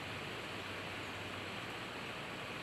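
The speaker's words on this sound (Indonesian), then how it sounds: "Ini air sungai kiri kanan nih guys." River water rushes past on both sides at a Malaysian durian orchard, a steady broadband hiss with no breaks, moderate in level and with no voices over it.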